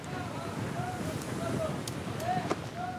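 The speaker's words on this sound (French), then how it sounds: "Le vent souffle à 40 km à l'heure" Wind blows at about 40 km/h across the tall ship Hermione at sea, a steady broadband rush with faint wave wash and a few brief creaks or tones over it.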